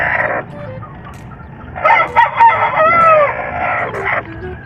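Nearby chickens on a farm, with a hen and her newly hatched chicks, give bursts of clucking and crowing-like calls over quieter background between them.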